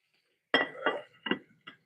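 A small plate clinks and knocks against a kitchen counter or other dishes as it is picked up, four quick ceramic taps in a row, close and fairly faint.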